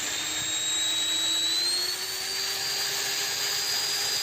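An angle grinder runs through a 1600W dimmer, its high steady whine holding at constant speed with a faint pitch drift, loud and close, no talk.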